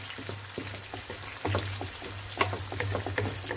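Onions frying and turning pink in a pan for aloo keema, a soft, steady crackling sizzle with scattered pops and a few light stirring clicks, fairly quiet and close.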